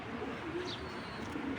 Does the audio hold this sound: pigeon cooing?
yes